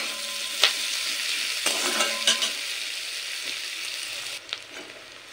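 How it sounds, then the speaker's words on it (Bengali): Long-sliced onions fry in oil in a pan, a crackling sizzle broken by several sharp scrapes and knocks as they are stirred, fading quieter toward the end. "এবার পেঁয়াজ তেলের সাথে একটু নেড়ে নেব হালকা বাদামি কালার আসা পর্যন্ত।"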